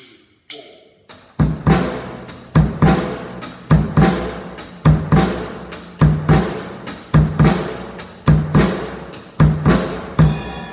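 Rock drum kit groove with a shifted eighth-note pattern, steady snare backbeats over kick and hi-hat, loud and close, repeating for roughly nine seconds after a short count-in.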